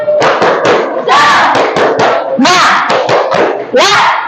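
Classroom students repeat the rhythmic 'tepuk semangat' clapping chant, a quick series of sharp claps punctuated by loud group shouts, close and lively.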